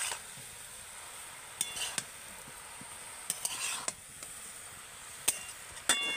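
Shredded cabbage and fried potato are stirred in a spice-coated pan: a faint low sizzle runs throughout, broken by several crisp spatula scrapes and knocks against the pan at uneven intervals.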